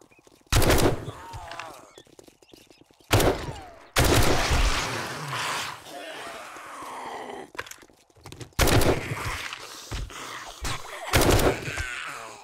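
A rifle being test-fired in the video game 7 Days to Die: several loud, close shots spaced a few seconds apart, each followed by a rattling reload or ringing tail, with grunts and groans between.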